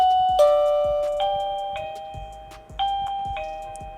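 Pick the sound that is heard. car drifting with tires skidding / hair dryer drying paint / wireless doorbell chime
wireless doorbell chime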